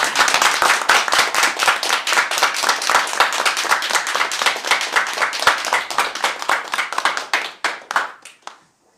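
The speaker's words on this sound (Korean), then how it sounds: "박수 한번." At a political party event welcoming a new recruit, a crowd claps in steady, dense applause that carries on for several seconds before thinning out and stopping.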